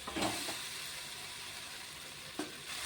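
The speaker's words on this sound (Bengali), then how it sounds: "এখন আমি জলটি অ্যাড করব।" Steady sizzling hiss of prawn curry spice paste frying in a pan as water goes in, with brief louder splashes at the start and near the end, close and alone.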